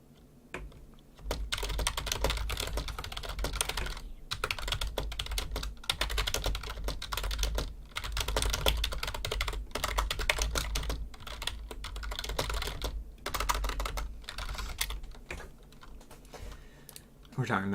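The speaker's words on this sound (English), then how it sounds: "You guys are just hearing me type for the last 3 or 5 minutes." Computer keyboard typed on continuously at close range during a Minecraft livestream, a dense stream of rapid clacking keystrokes broken by brief pauses.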